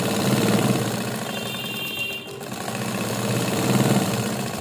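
A domestic sewing machine runs steadily, stitching a test seam with a new lower thread after a faulty bunched under-stitch was unpicked, its motor hum continuous and close with a brief dip midway.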